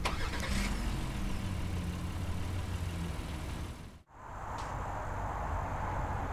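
A 2019 Honda Pilot three-row SUV starting up by remote start, a steady engine rumble running near and continuous, broken by a brief dip and then settling back into an even idle.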